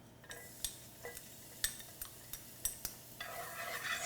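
Garlic, half a tablespoon, cooks in a pan for Thai curry while being stirred: a soft sizzle broken by repeated light scrapes and clicks of a utensil, growing louder toward the end, close and without speech.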